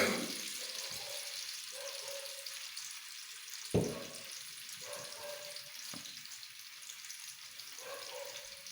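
About half a kilo of ghee heats in a pan for frying pakoras, giving a soft, low sizzle broken by a few sharp knocks and clinks of a utensil, with no talking.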